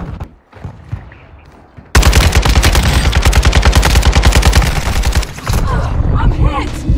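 Automatic gunfire in Warzone 2 from a Tempus Razorback rifle, a loud, rapid burst of evenly spaced shots that runs for several seconds after a quieter lead-in, briefly pauses, then resumes, with a voice calling out underneath.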